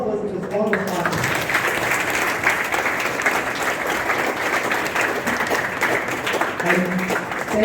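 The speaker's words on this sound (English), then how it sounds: "I think first we give a clap to all of us" Audience clapping at a college arts faculty career day, steady continuous applause from a hall full of people, with some voices audible underneath.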